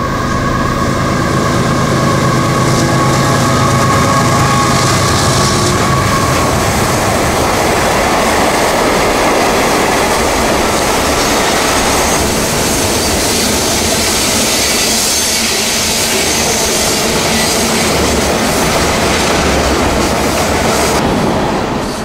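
A train rolls past close by on the Florida S-Line near Summerfield Siding, a loud, sustained roar of wheels and rail with steady clattering that fills the whole stretch without letup.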